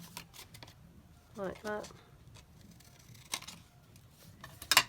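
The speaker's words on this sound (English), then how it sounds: "we're just going to cut those corners off" Scissors snip the corners off paper during a crafting session making faux envelope flip-outs, giving a few short, close cutting sounds. A voice talks quietly through the clip.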